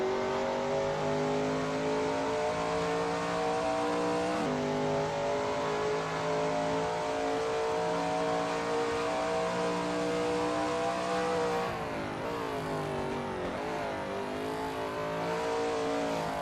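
A Shelby Mustang GT350R roars around Sebring in a racing game, its engine held at a loud, sustained high rev with gear shifts and a brief lift off the throttle mid-run.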